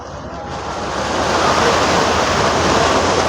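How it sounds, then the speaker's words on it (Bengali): Strong waves surging at the Mumbai shore near the Taj hotel, a loud, continuous roaring wash of water swelling over a few seconds, with wind buffeting the microphone. "জলের কীরকম স্রোতটা বা জলের ঢেউটা কত জোরে"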